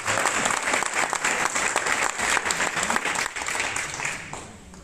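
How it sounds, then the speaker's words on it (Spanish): Church congregation bursts into strong applause, dense overlapping claps at a fairly close, lively level that eases slightly near the end. "Si es para Dios, fuertes aplausos."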